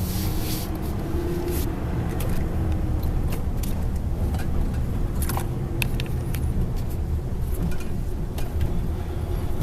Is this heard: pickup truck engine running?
yes